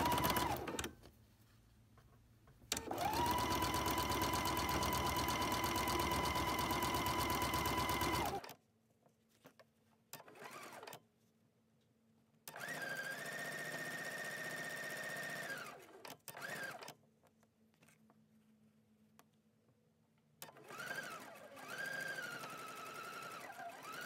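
A sewing machine chain-pieces Courthouse Steps log cabin quilt blocks in several bursts of steady, whirring stitching, each run lasting a few seconds and separated by short pauses, loud and close with no talking.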